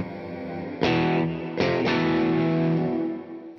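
Electric guitar chords through a CTC Sidekick Jr. pedal ring out with a big, washy reverb tail, each strum blooming and sustaining into a long, spacious decay.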